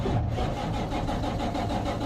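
A Kenworth T660 truck's diesel engine cranks and catches, giving a loud, close, rough rumble with a pulsing beat that settles toward idle.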